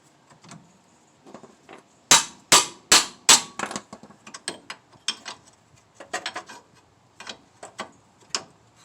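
Socket ratchet backing bolts out of a rear wheel bearing on a 2007-2012 front-wheel-drive Mazda CX-7, with sharp metallic clicks in quick bursts, a few loud strokes and then lighter irregular ratcheting, close by with no talk.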